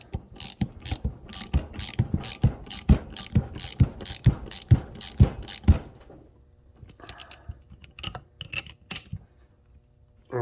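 A brake line flaring tool is screwed down with a ratchet, giving a run of loud, close, evenly spaced clicks, then a quieter stretch with a few scattered mechanical clicks.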